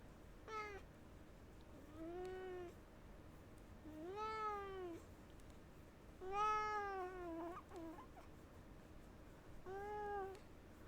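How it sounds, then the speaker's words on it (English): An unhappy cat meows five times, long drawn-out wailing cries that rise and fall, spaced by short pauses, close and fairly clear against a quiet background. "they all sound like very unhappy kitty noises"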